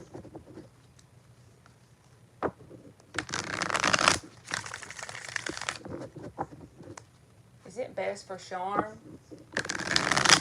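Tarot cards shuffled by hand in several bursts of crisp, riffling, papery rustle, mixed with a spoken reading that pauses between shuffles.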